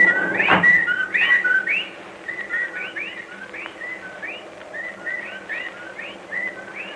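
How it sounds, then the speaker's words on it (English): Whippoorwill calls used as a sound effect in a 1945 radio horror drama repeat as clear whistled phrases, several overlapping at moderate distance after a brief thump at the start. "Well, there are the whippoorwills."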